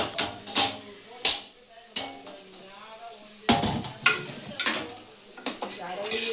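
Tomatoes sautéing in hot oil in a home kitchen pan, with soft sizzling beneath repeated sharp clinks and scrapes of a spoon stirring against the pan, in uneven bursts.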